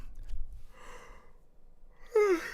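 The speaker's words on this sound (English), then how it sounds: "Yawn. I'm tired." A tired person breathes and sighs softly, then lets out one short, voiced yawn near the end, close and fairly quiet.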